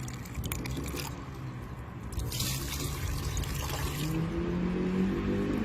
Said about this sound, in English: I'm gonna rinse this out here.